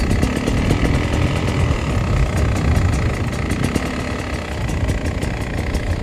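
An enduro motorcycle rides off-road over rocky ground, its engine loud, close and continuous, with a rough churning drone and rapid ticking texture throughout.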